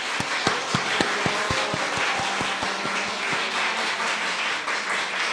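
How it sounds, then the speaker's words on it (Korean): A church congregation claps together to welcome newcomers standing during a service, a steady dense patter of hands with a few sharper individual claps in the first seconds. "우리 박수로 환영합니다."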